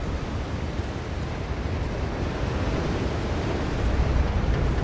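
Stormy weather on an oil rig in the game Still Wakes the Deep, a dense, steady roar of wind and crashing waves that swells slightly toward the end, with no talk.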